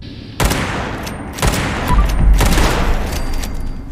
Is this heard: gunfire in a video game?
yes